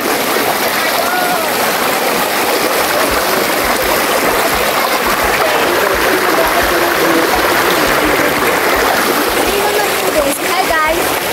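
River water rushes and splashes loudly in a constant, close outdoor roar. Voices talk faintly underneath it.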